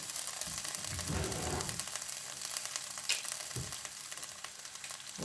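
Food fries in hot oil, a faint continuous sizzle with scattered crackles and a few soft handling knocks.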